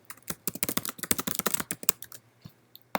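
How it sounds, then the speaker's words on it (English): Fingers tap a computer keyboard in a quick uneven burst of close, crisp keystrokes, then slow to a few scattered clicks, with no speech. "You just type your questions in."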